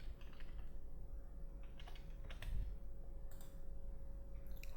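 Light, quick keystrokes on a computer keyboard come in short bursts over a quiet room hum, soft and close, with brief pauses between clusters of taps.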